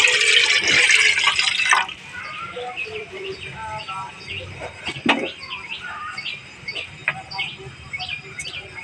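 Water gushes loudly into a cooking pot for greens in a village kitchen for about two seconds, then stops. Birds chirp nearby afterward and a brief clatter follows.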